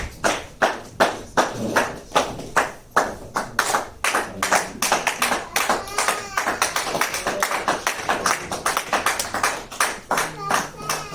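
A church congregation claps in a steady rhythmic beat for about eleven seconds, the sharp hand claps loud and close, with voices calling out faintly beneath them.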